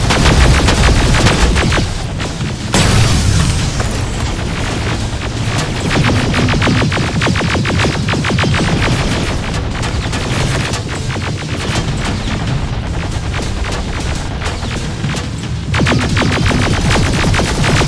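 Sustained rapid gunfire in Terminator Resistance, loud and dense bursts of automatic weapons and heavy booms overlapping almost continuously, with only a brief lull near the start.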